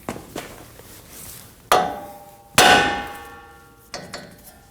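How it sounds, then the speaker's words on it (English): Hammer striking the steering knuckle of a 2015-2022 Chevrolet Colorado to free the tie rod, a few sharp metallic clangs with ringing decay, two heavy blows and lighter taps, close and alone. "Now we're just going to strike on the knuckle right here to release the tie rod."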